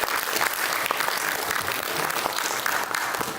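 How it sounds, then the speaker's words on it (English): A school audience at a student personal project exhibition claps in a steady, dense burst of applause, loud and continuous throughout. "Let's give them all a round of applause."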